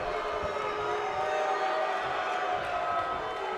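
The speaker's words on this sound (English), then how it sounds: "Crowd showing their displeasure, and understandably so. Oh, I see equal amounts of cheering and booing" Virtual wrestling crowd from a video game, a steady dense wash of mixed cheering and booing that holds at an even level throughout without breaks.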